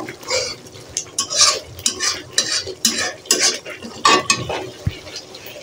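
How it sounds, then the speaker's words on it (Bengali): Boiling pickle is stirred in a pan on the stove, with repeated utensil scrapes and clinks against the pan over a bubbling sizzle, close and fairly loud. "একটু এরকম নাড়তে থাকেন"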